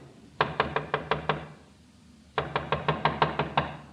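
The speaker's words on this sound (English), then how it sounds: "Someone's trying the outside door." Firm knocking on an outside door comes in two bursts of about six sharp raps each, evenly paced, loud and close, separated by a short quiet pause.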